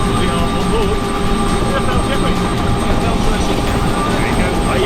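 A helicopter flies above the Festival of Speed, heard from on board as a loud, constant engine and rotor roar with people talking over it.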